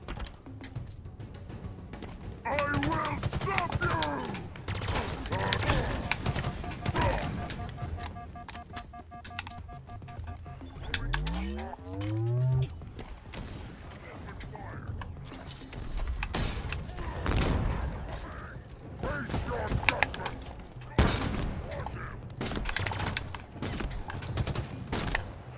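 Repeated gunfire bursts and heavy shotgun blasts from the video game Halo Infinite, scattered through the clip amid other combat effects, with a player talking over parts of the action.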